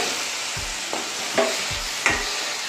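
A Telugu tempering for ridge gourd chutney, with a pinch of turmeric added, fries in a pan with a steady close sizzle while a spoon stirs and taps the pan a few times.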